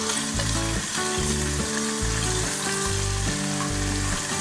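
Paneer fries gently in ghee over a low flame with a steady, close sizzle and occasional light stirring, heard beneath rhythmic background music.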